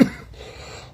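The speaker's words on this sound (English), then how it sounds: "Y'all be hearing me cough" A single sharp cough at the very start, fairly close and loud, then a low murmur of background noise with no further voice.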